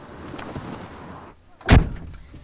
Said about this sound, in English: when I close the door